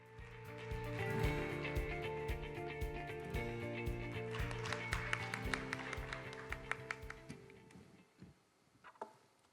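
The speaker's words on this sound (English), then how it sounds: "A big, warm round of applause," Audience at the Global Korea Convention 2021 opening ceremony claps in scattered, uneven taps over a steady musical tone, fading out toward the end.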